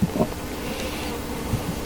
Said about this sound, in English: There's some bees on that, and I can tell here that they're actually eating that honey.